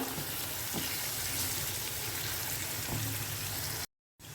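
Spices and fish curry masala fry in a pan for katla fish curry, giving a loud, dense, continuous sizzle with a few soft stirring knocks, then a brief cut to silence near the end.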